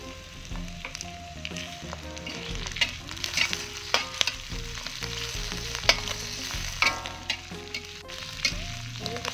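Shrimp stir-fried in a pan sizzle steadily up close, with occasional sharp spatula clicks and faint background music running underneath.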